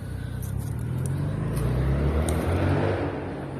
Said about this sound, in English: Excuse the traffic again.